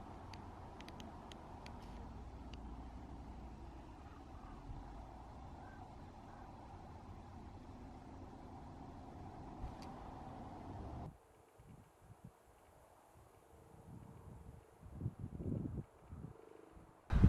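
A car rolls along on an evening drive through Grand Teton National Park, with a low steady road rumble and wind noise that abruptly drops away, followed by quieter rustling and bumps.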